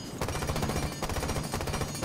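Rapid automatic rifle spray fire from a shooter game in Rainbow Six Siege, a continuous loud burst of densely packed shots running for about two seconds with a brief break near the middle.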